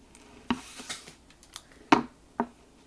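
Scissors snip through paper or craft material in a few sharp, isolated cuts, close by in an otherwise quiet room.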